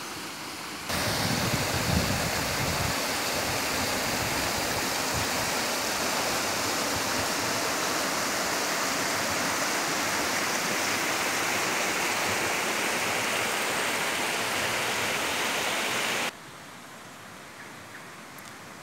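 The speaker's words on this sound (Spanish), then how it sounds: "El arroyo lleva el mismo nombre, se denomina Arroyo El Palmar." Arroyo El Palmar, a stream in El Palmar National Park along a trail, rushing in a steady broadband wash of flowing water, close and continuous for several seconds before dropping to a quieter hiss.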